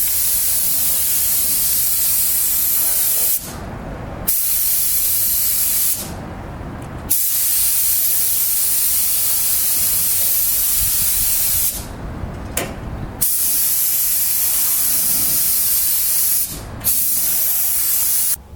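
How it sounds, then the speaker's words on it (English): Cheap imported HVLP spray gun spraying black epoxy primer on a car body, a loud steady hiss in long bursts broken by several short pauses as the trigger releases. "We got one of those cheapo China spray gun kits, and we'll see how they do today. Some HVLP guns."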